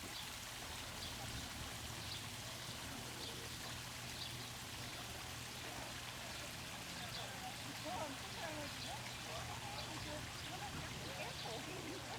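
Steady, gentle trickle of water running continuously from a backyard pond water feature in a garden, with faint muffled voices under it.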